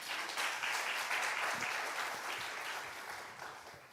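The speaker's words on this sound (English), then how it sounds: "Let's give him a round of applause." An audience applauds after a pitch at a pitch day event, a dense, even burst of clapping that gradually fades over a few seconds.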